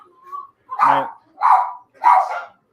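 A dog in a busy household with several dogs gives three loud, close barks spaced about half a second apart, preceded by a faint whine.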